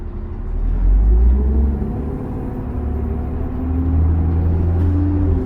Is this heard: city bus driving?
yes